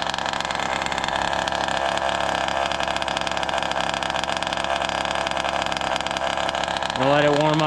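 A Goped gas scooter's small engine idles at about 4,000 RPM with a fast, steady buzzing rattle, close and loud, then its pitch jumps upward briefly near the end as it revs.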